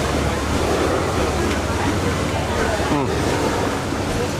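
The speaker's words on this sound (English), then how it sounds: "the sound of a paddle wheel? Yeah. It's like listening to waves." Paddle wheel boat churning the water at Disneyland, a steady, continuous wash of splashing water that runs throughout like rolling surf, with a faint voice briefly heard over it.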